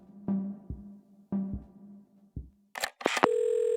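Telephone keypad tones and handset clicks in the puzzle game Assemble With Care: two short beeping presses, a soft click, then a few sharp bursts and a steady dial tone at the end, all close and clear.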